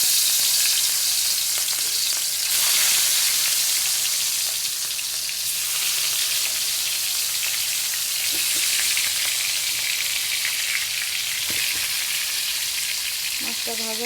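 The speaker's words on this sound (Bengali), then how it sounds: "মাছটা ভাজা হতে লাগে," Rohu fish pieces frying in hot oil in a kadai give a steady, loud sizzle with crackling spatters throughout, a few faint clinks and a brief low voice near the end.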